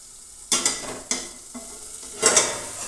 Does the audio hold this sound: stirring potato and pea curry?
yes